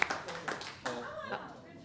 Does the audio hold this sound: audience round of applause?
yes